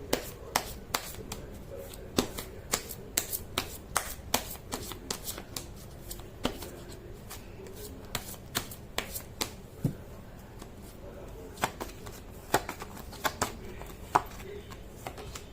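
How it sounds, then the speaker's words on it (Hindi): Tarot cards shuffled continuously at close range, a dense run of quick riffling snaps and soft paper rustles over a faint background murmur. "मैं कर लेती हूँ कार्ड की शफलिंग"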